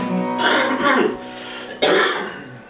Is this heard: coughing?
yes